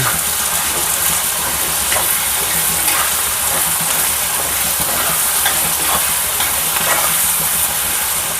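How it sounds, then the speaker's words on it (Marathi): Peanuts deep-frying in oil until crisp, cooked for a traditional Vidarbha ukadpendi, give a loud, steady sizzle and hiss that runs unbroken and close throughout, with no talking. "चांगले शेंगदाणे असे सालनेगेपर्यंत तेलामधून तळून घ्यावे"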